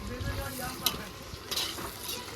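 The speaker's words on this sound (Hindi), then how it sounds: "चला देंगे और इसे हम जब तक पकाएंगे जब तक टमाटर लूज नहीं होते हैं।" Tomato and cashew gravy cooking in a pan for dhaba-style matar paneer, stirred with soft scraping strokes over a steady low sizzle, close and moderately loud with no voices.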